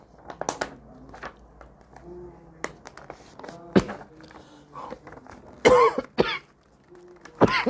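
A person coughs several times in a quiet room during a live Quran recitation lesson, short sharp bursts scattered unevenly with small rustling and throat-clearing noises between them and no talking.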